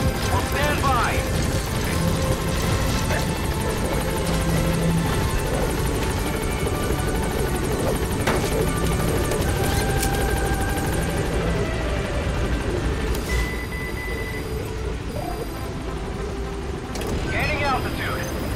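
Helicopter in Metal Gear Solid V arriving and lifting off, a steady loud rotor and engine drone filling the scene, with a game radio voice speaking over it and occasional sharp effects.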